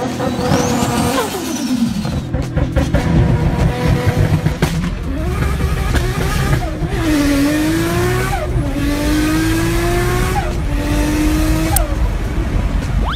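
A Nissan Skyline GT-R engine roars and revs through several gear changes, with tires squealing as it accelerates; loud, continuous, and no talking.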